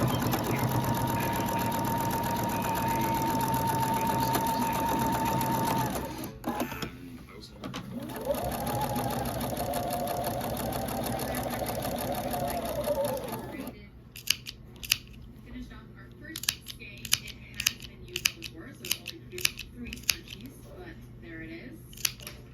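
A sewing machine stitches Christmas quilt rows together in a steady close whir with a faint tone, pauses briefly, runs again, then gives way to sharp snips and clicks while a person talks.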